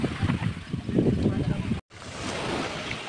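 Strong surf and gusting wind at Pagbilao, Quezon, at high tide, heard as a continuous rushing roar with a brief dropout partway through. A voice talks over the first half.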